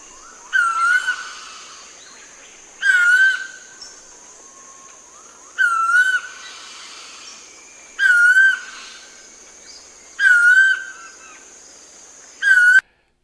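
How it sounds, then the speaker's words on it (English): Recorded cuckoo song played back, a repeated whistled call phrase sounding about every two seconds, six times in a steady rhythm, clear and close with no talk. "Now this bird will sing. It's a cuckoo, and it will sing day and night."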